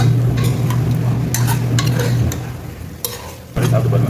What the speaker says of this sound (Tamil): இது ஒரு 5 நிமிஷம் கொஞ்சம் இந்த எண்ணெயில் கொஞ்சம் வதங்கட்டும் பீஃப்